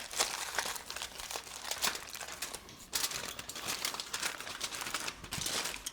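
Wrap crinkles and crackles as it is folded tightly around a rack of ribs bound for the smoker, a steady close-up rustle with sharper crunches throughout.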